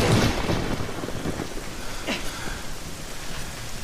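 Rain and thunder in The Legend of Zelda: Ocarina of Time, a loud continuous downpour hiss with a deep rumble of thunder at the start and a brief high tone partway through.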